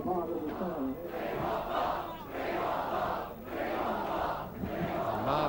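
Enthusiastic crowd at a Headingley cricket test match, England versus Australia, cheering and shouting in continuous loud swells with brief dips, close and dense.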